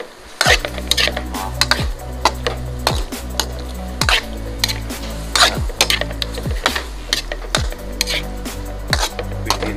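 A utensil stirs squid sautéing in a pan with oyster sauce, making repeated metallic scrapes and clinks against the pan at an uneven rhythm over a soft sizzle, loud and close.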